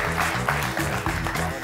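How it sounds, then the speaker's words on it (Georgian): A game show studio audience claps for a contestant, a dense continuous wash of applause throughout. "აპლოდისმენტები"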